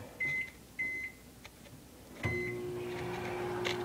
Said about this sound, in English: I'm just going to microwave for a minute.